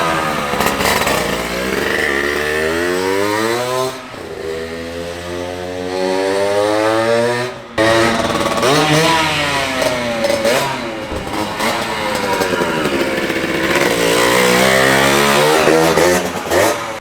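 A 1982 Honda MB5 two-stroke motorcycle engine runs loud and close, buzzing and revving up and down repeatedly with rising and falling pitch and a couple of brief drops, with no voices.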